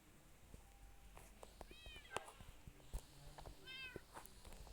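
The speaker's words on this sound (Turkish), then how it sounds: "Bunlar kedilerim." Cats in the video game Minecraft meow twice in quick succession, faint and thin over a busy background of game sounds and scattered clicks.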